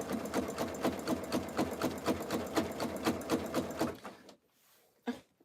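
Sewing machine stitching strips for a jelly roll rug, running in a fast, even rhythmic chatter for about four seconds before stopping abruptly, followed by a brief faint clunk.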